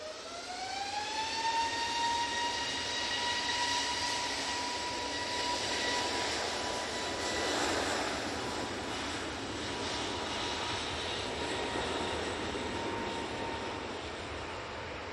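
A jet airliner takes off from Manchester Airport bound for Naples, its engine whine rising in pitch and then settling into a steady, loud roar with broadband rumble that stays strong through the whole stretch.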